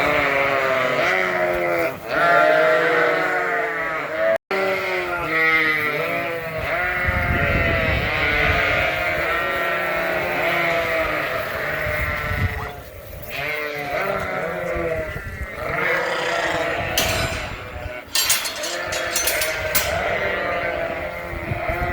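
Many sheep bleat continuously and loudly on a farm as the flock is moved, overlapping calls near and far with rustling movement underneath and no talking.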